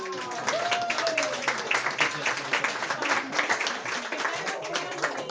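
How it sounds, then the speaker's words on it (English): An audience at a potluck dinner in the historic Fenner Mansion breaks into steady applause, a dense wash of many hands clapping that carries on throughout, with faint talk mixed in. "So please give them a round of applause."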